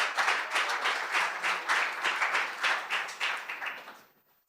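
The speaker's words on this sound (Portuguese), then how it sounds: "Pode dar uma salva de palmas a Jesus, amém?" A church congregation claps in a steady, rhythmic beat during a service, close and moderately loud, the claps keeping an even pulse for several seconds before quickly dying away.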